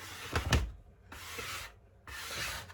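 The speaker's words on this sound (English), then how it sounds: "Let me just scrape off some of this flour." Flour scraped off an old wooden meat board in three rough, rasping strokes, close and fairly loud, separated by short pauses.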